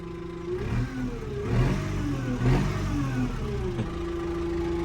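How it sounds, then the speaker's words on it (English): A tractor engine fitted with a straight-pipe exhaust, heard from inside the cab, revs up from idle in a couple of rising and falling surges, then settles back to a steady hum. "here's me revving it from inside"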